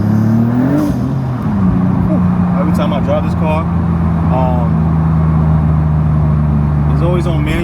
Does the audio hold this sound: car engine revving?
yes